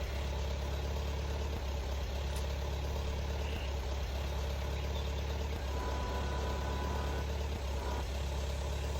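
A 1955-era tractor in Farming Simulator 22 idles steadily with a low, constant engine rumble and faint mechanical hum, with no talk over it.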